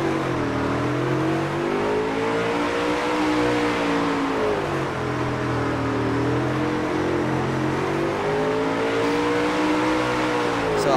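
A race car engine drones through a qualifying lap in a racing game set on a Charlotte track, pitch rising and falling in smooth sweeps as it shifts and corners, loud and steady throughout.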